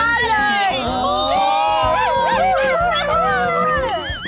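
Dogs howling at a reservoir in Suphan Buri province, several wavering, overlapping howls rising and falling together, fairly loud and close, with human voices mixed in underneath.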